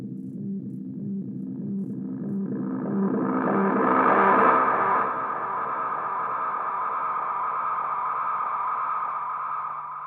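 A Boss DD-500 delay pedal in a feedback loop with a 1.25 kHz boost: pulsing repeats swell into a loud, smeared wash that settles into a sustained, buzzing midrange drone.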